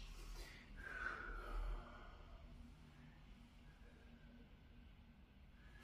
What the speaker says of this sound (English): you can hear me deliberately breathing out into the stretch